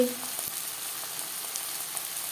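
Chopped onion with tomato pieces fries in oil for a Bengali fish curry, a steady close sizzle with faint stirring ticks, alone without speech.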